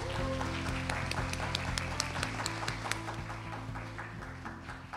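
Audience applause at a conference talk panel, steady clapping with many sharp claps over a sustained low musical tone, moderately loud throughout.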